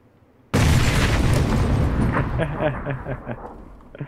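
A grenade in the PUBG video game goes off with a sudden loud blast that rumbles and crackles as it fades over several seconds, with faint voices mixed underneath.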